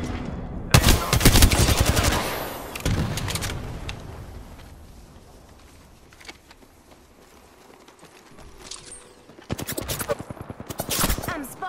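Loud bursts of rapid automatic gunfire in the video game Apex Legends come in close, dense volleys at the start and end, with softer game sounds and distant shots filling the quieter middle.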